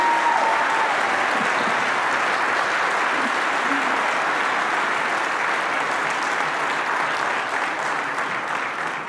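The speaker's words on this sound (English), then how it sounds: "can we give a huge round of applause for my team that works so hard to support you?" Sustained audience applause fills a town hall meeting with Rep. Jayapal, a dense, steady clatter of many hands clapping at close range that continues evenly for about nine seconds and eases slightly toward the end.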